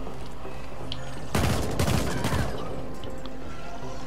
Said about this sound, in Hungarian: valaki robbantgat.